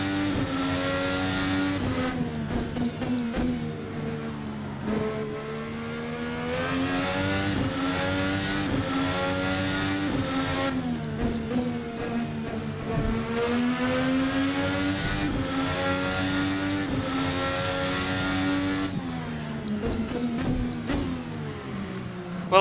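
A VRC Formula NA 2018 race car in a video game drives a lap, its engine loud and continuous, rising and falling through revs and gear changes with no voices over it.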